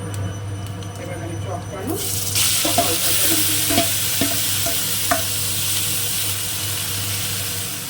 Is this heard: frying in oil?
yes